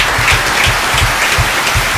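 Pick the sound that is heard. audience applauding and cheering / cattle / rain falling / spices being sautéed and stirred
audience applauding and cheering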